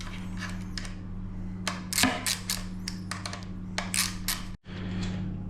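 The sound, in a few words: loosening the four axle screws on a Sur-Ron Light Bee front wheel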